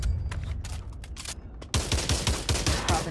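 M1 Garand rifle fire in Pavlov, a World War II shooter game: scattered sharp reports at first, then a rapid series of loud close shots in quick succession.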